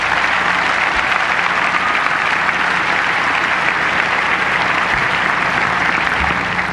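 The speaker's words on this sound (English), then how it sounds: "And I'd like you to give a quick round of applause to Jim Malamy, Doug Saputo, and Andy Broderi" Sustained audience applause fills a hall at a Hall of Fame induction ceremony, a dense, loud, even clapping roar lasting throughout.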